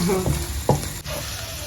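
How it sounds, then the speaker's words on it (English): Eggs are scrambled in a frying pan for egg fried rice, giving a brief steady sizzle broken by a couple of quick spatula scrapes, close and with no talk. "You really also need to scramble this eggs."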